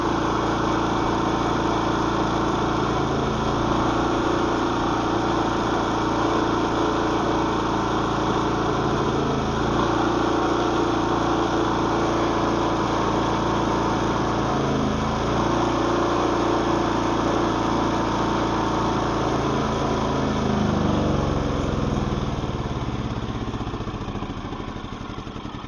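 Small generator engine runs continuously and steadily at a close, even idle while burning the remaining gas out of its carburetor, with no talk over it.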